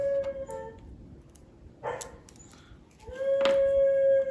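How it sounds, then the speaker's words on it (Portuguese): Neighbour's dog barking and howling outdoors, a couple of sharp barks breaking into long sustained howls, moderately distant and alone without talk. "o cachorro do vizinho de novo"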